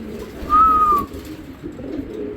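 A Giribaz high-flying pigeon gives a single clear cooing call, close by and brief, over a low background murmur of other birds and ambient noise.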